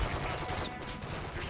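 Rapid automatic gunfire in a Modern Warfare 3 campaign mission, a dense continuous burst of shots filling the short stretch at moderate loudness.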